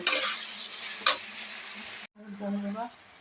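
Bottle gourd stems and potato frying with ginger in a pan, a steady close sizzle with a sharp clink of a spoon against the pan, then a voice speaks briefly at the end.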